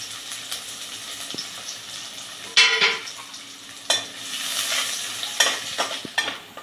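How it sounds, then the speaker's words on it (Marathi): Chopped onion with curry leaves and garlic cloves frying in two spoons of oil in a pan, a steady soft sizzle broken by a few louder scraping stirs, close and without talk. "कांदा पण आपला परतून झालेला आहे।"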